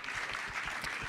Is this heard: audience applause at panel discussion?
yes